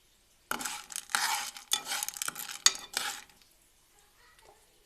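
Cooking oil and salt being mixed in a pot for homemade popcorn: a few short bursts of close metallic scraping and stirring over about three seconds, then near silence.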